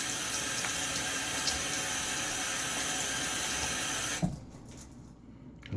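A tap runs steadily while a safety razor is rinsed under it, a continuous close splashing wash that cuts off abruptly near the end, leaving a quiet room.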